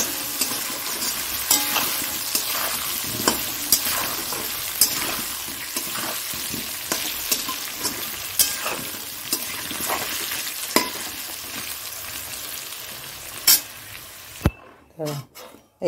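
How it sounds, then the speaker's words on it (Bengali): Potatoes shallow-fried in oil with salt and turmeric sizzle steadily in a pan for a Bengali chicken curry, with repeated spatula stirring scrapes punctuating the hiss before the noise cuts off near the end. "এর মধ্যে কটা আলু একটু ভেজে নেবো হালকা করে"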